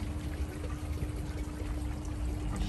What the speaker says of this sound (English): we've got another little water feature there, like a stone effect one